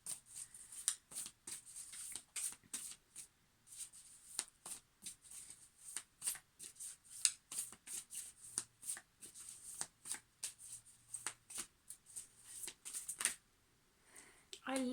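Tarot cards are shuffled close up in a quiet room. Crisp riffling bursts repeat in quick, irregular runs throughout, with short pauses between them.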